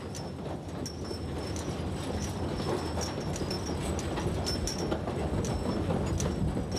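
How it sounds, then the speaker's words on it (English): The pong-pong forest train at Taiping Mountain, a small narrow-gauge logging railway through Japanese cedar and Taiwan cypress, rumbles steadily along its rails with rhythmic clicks and occasional high metallic squeals, close and continuous without talk. "You can take a pong-pong train from Taiping Villa to Maoxing, recreating the experience of the old lumber industry."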